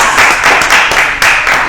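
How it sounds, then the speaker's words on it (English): Audience applause at a live news and mimosas show at Tavern On Broadway: loud, dense clapping from a crowd, steady and close for the whole short stretch with slight swells. "Turn the mic on for real claps."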